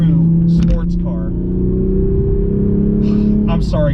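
A Toyota GR Supra 3.0 sports car engine hums loud and close at steady revs, climbing slightly in pitch while a person talks over it at the start and end.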